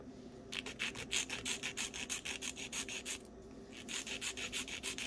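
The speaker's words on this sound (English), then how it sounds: "right here, I'm buffing the nails, as you can see" Rhythmic rasping strokes of a file shaping and buffing gel nail tips, close and steady at about two strokes per second, pausing briefly midway before resuming.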